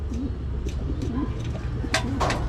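A racing pigeon coos softly several times in low, rolling notes, close by, with a few sharp rustles and flutters mixed in.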